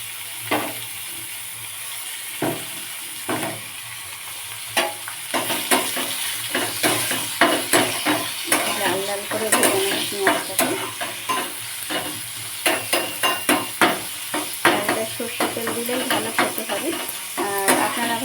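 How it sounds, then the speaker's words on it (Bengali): Onions frying in two tablespoons of hot mustard oil, a loud continuous sizzle broken by rhythmic spatula scrapes and clacks against the pan, growing busier as stirring picks up. "এবার তাতে পেঁয়াজটা দিয়ে দেবো পেঁয়াজটাই ভেজে দেবো ভালো করে"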